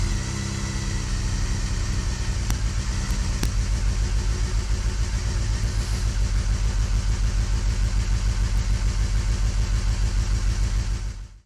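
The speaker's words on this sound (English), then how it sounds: "I give the engine a few sharp flips of the throttle" A Honda CBR250RRi motorcycle engine idles with a fast, even pulse, then its throttle is flipped sharply a few times, giving loud rapid revs that rise and fall close by, with no talking.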